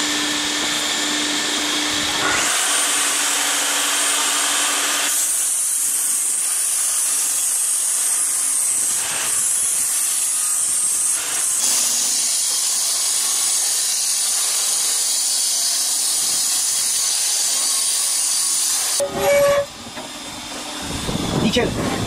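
Wooden ash cover strip being sawn lengthwise down the middle, a loud continuous power-saw whine and hiss that shifts in pitch in stretches over about twenty seconds, with a brief pause and clunk near the end.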